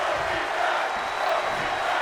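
A wrestling arena crowd in a WWE 2K video game keeps up a loud, steady roar and cheer throughout, a dense wash of noise with no distinct break.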